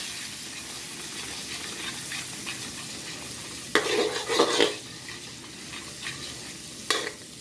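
Sardines fry in a pan with a soft, steady sizzle, broken by a few louder bursts of stirring and scraping from a utensil.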